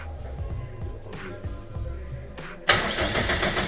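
A Honda K20 engine swapped into a Peugeot 205 cranks with a low, busy churn, then fires abruptly and roars into a loud, steady run close by.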